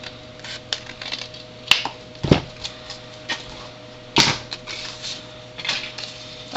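Scissors snipping through a folded sheet of cardstock at close range, a run of short crisp cuts with a few sharper clicks, quiet with no talk.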